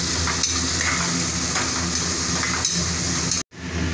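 Khichdi with onions, potatoes and tomatoes being stirred in a pan, a steady close sizzle with soft scraping and occasional utensil clinks, cutting off briefly near the end.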